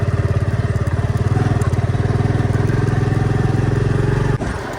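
A motorcycle ride with a loud, close engine drumming in a steady rapid pulse throughout, the beat briefly dipping near the end, and no voices.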